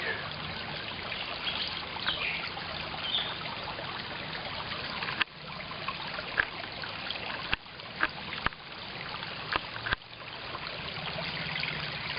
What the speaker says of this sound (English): I am down by the creek